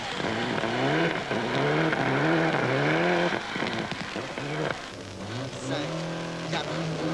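A Renault rally car accelerates hard, its engine note climbing in repeated rising sweeps through the gears, loud and close, with a commentator talking over it and a brief lull before it pulls again.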